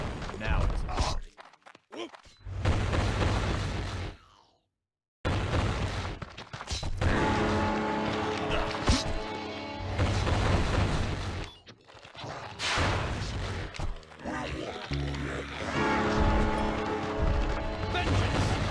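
Explosions and combat crashes in the fantasy action game Eternium, repeated heavy booms and smashing hits over busy battle noise, with a brief silent gap and voices calling out over the fight.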